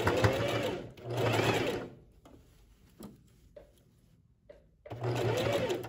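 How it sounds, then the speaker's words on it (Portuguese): A sewing machine stitches a blouse seam in two loud, steady runs, one at the start and one at the end, with quiet handling clicks and brief taps in the pause between them. "Eu já dei o retrocesso e vou continuar aqui com a costura."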